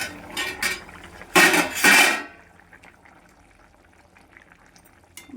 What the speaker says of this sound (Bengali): ঢাকনাটা এখন খুলে দিই।